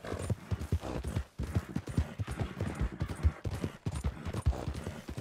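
Horse hooves clip-clop in a steady rhythm within Red Dead Redemption 2, a small mare trotting along with a continuous mix of game sound around the footfalls, no talk over it.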